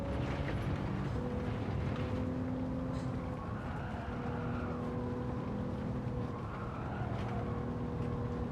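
A video game race car runs along the track with a steady engine drone, layered with a rattling, rain-like mechanical clatter that persists throughout.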